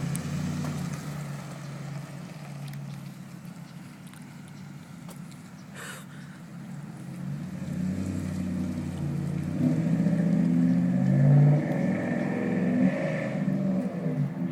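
A Dodge Ram truck's engine runs steadily just after a cold start, a continuous low rumble that swells a little louder toward the end, with no voices.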